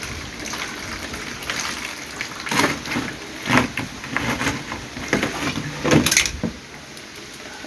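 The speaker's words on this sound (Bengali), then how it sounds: "তো এটাকে আরেকটু রসুন জল দিয়ে নিই" Garlic water poured onto a hanging orchid, heard as soft intermittent splashes and trickles with a few sharper knocks, close and moderately loud, without talk.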